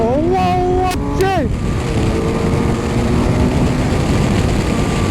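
A 2017 BMW F800R motorcycle engine revs hard through rising then falling pitch sweeps, then settles into a loud, steady drone with strong wind rush, heard close from the rider.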